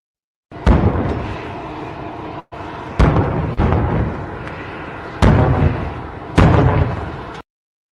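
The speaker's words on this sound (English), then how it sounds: "that is audio of cannons being fired off upon Trump touching down and descending the staircase from Air Force One." Ceremonial cannon salute fired as Air Force One touches down in Saudi Arabia: five loud, evenly spaced booms, each followed by a sustained rumbling echo, with no voices.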